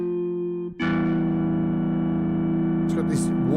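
A sustained polyphonic triangle-ring preset chord on the Imaginando DRC synthesizer app, bright and ringing, starting after a brief dip and holding steadily, with a slight wobble near the end.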